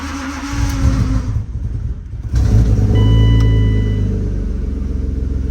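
A BMW E34 Touring with about 290,000 miles cranks and catches on a cold start, then settles into a steady, loud low rumble at idle, close up, with a faint electronic chime over it.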